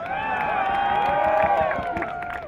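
A large crowd at a climate rally in Vancouver lets out a sustained, close cheer of many voices whooping together, swelling and then tapering off.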